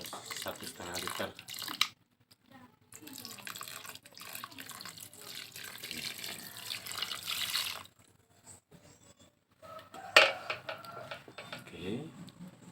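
Water poured into batagor dough, about 1.5 litres into a 2.5 kg batch, giving a running, splashing pour in bursts with brief pauses, fairly close and moderately loud.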